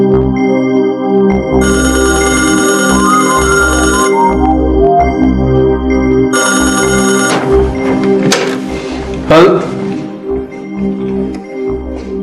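A telephone rings in bursts in an old 1990s Pakistani TV drama, an electronic ringtone repeating twice with pauses between, loud and close, with clattering and handling sounds after.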